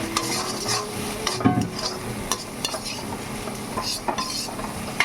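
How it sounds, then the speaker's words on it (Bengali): Chickpeas fry in a pan with a soft sizzle as a spatula repeatedly stirs and scrapes against the metal in irregular clinks and scrapes. "আমি ছোলাটা অল্প করে ভাজছি আজকে"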